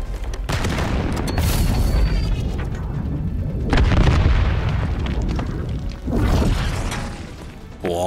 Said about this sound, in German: Boah, nette Granate.